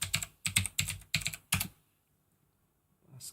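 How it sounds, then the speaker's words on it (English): Typing on a computer keyboard to enter search keywords: five quick clusters of crisp close key clicks over about a second and a half, then near silence with a faint rustle at the end. "Basic search is just type the keywords and search."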